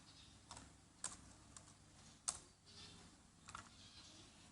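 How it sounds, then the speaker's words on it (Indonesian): Keys clacking on a computer keyboard during a word-processor tutorial, a handful of separate, fairly quiet taps spread unevenly over a few seconds with no talk. "tekan garis miring yang ada di keyboard"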